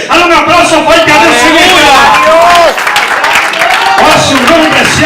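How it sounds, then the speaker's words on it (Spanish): A congregation at an evangelical church service claps loudly and continuously, with voices calling out over the applause throughout. "Dale un aplauso fuerte a Dios."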